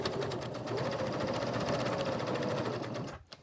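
Running continuously and close up, a sewing machine stitches a magnetic wrist cuff in a steady, even whir before stopping abruptly near the end.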